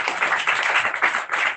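Brief burst of clapping from a gathering in honor of Sunny, dense and steady for about a second and a half, with no speech over it.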